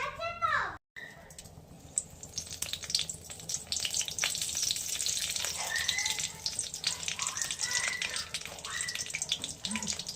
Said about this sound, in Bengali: একটু জিরে দিলাম ফোড়নে